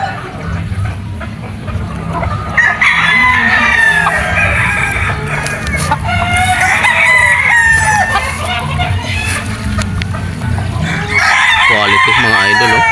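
Super Brown Red straight comb gamefowl hens and roosters crow and cluck together at a mountain gamefarm on Mt. Banahaw, repeated loud crows rising over a steady low background hum.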